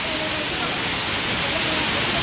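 Waterfall in Canggu, Bali, roaring as a steady, dense broadband rush that fills the whole clip at constant loudness, close by and unbroken.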